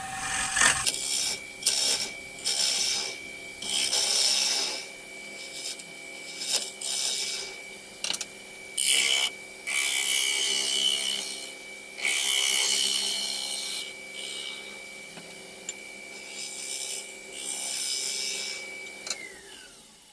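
An old-fashioned bowl gouge with a slight heel on its grind cuts the inside of a wooden bowl spinning on a lathe, giving a steady scraping, rushing tone broken by repeated short pauses between passes, fairly close and alone.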